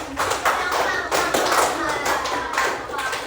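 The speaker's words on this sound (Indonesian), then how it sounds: "Kita berikan tepuk tangan." Fourth-grade class clapping their hands in a classroom, several rhythmic bursts of children's claps close to the microphone, with some chatter mixed in.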